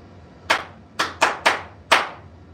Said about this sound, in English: This time, finish the clap.